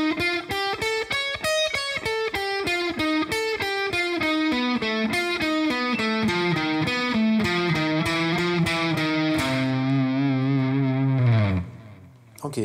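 Distorted electric guitar with chorus-like effects plays a fast pentatonic line that skips a note each time, running as a steady stream of quick picked notes before settling on a held, sustained note that fades out near the end.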